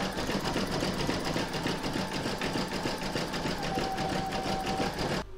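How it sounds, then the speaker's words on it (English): An embroidery machine zigzag stitches the raw top edge of a mandala placemat in the hoop, humming steadily with a rapid, even needle rhythm that stops sharply at the end. "you're now going to pop your hoop back into your machine and stitch round number 13, and that's going to zigzag the raw edge across the top here"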